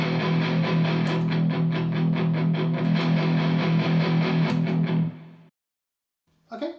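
A heavily distorted electric guitar rings out with dense sustained chords for about five seconds, then cuts to silence before a brief strum returns.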